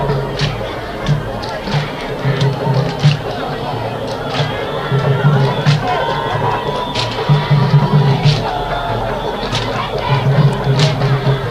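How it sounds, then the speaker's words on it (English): A crowd at a Brikama Summer Nawettan 2025 football match in the Boxbar Mini Stadium shouts and cheers continuously, with claps and sharp bursts popping out of a dense, loud roar; a commentator talks over it. "all the noise, shouts and claps are coming from the Boxbar Mini Stadium in the Brikama Summer Nawettan 2025"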